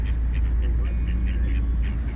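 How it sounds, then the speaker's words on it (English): Ducks quacking beside a narrow canal, a family of two adults and two ducklings: repeated short quacks in an irregular rhythm over a loud low rumble of a boat engine nearby. "mummy, daddy and 2 baby ducks."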